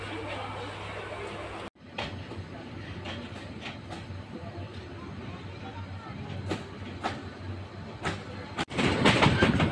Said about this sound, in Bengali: আমাদের ট্রেন মাত্র চালু ঢাকা বিমানবন্দর স্টেশন থেকে।